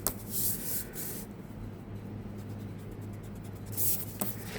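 Pencil lines being erased through a note card used as an eraser shield on a drawing of two-point perspective boxes; short bursts of soft rubbing scratch, close and quiet, with pauses between strokes.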